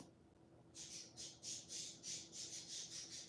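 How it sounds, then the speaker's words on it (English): Pet birds squawk indoors in a series of about eight rhythmic, evenly spaced calls. The calls are faint but clear above a quiet background hum, and no one speaks. "Y'all hear my birds?"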